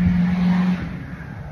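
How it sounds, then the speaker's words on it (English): A diesel truck engine revs loudly and close for about a second, a deep steady roar that then drops and fades. "diesel trucks."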